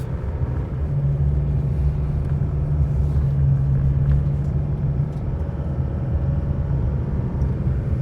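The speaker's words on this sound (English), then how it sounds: "I'm on gravel, loose gravel." A Colorado ZR2 truck driving on loose gravel at about 65 km/h, heard from inside the cab as a steady low rumble of engine and tyres with a constant road roar.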